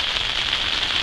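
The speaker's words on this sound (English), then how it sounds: "it's starting to rain" Rain begins falling in Michigan woods during a spring turkey hunt, a steady soft hiss of drops pattering on surfaces, continuous and even with no voices.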